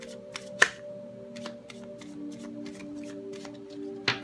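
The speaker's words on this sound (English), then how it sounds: "third shuffle" Tarot cards being shuffled by hand during a Leo reading: soft papery riffling with a few sharp slaps near the start and end, close and quiet over a steady low hum, with no voices.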